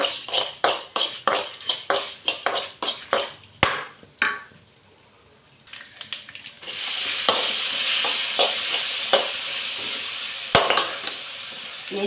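Dry red chillies and other ingredients stirred while frying in oil for a pickle, first a quick series of spoon taps and scrapes, then a brief quiet pause and a strong continuous sizzle, close and loud.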